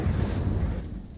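Incendio fire spell cast in Hogwarts Legacy, a loud whooshing, roaring fiery burst with a heavy rumble that fills the short moment and then fades slightly.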